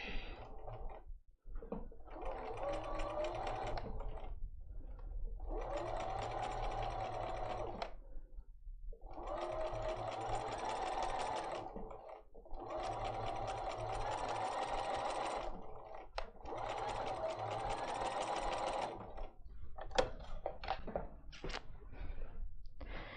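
A sewing machine stitches a curved seam in quilt fabric, running in five bursts of rapid, whirring stitching separated by short pauses, then a few scattered clicks and handling sounds at the end; fairly quiet and close, with no talking.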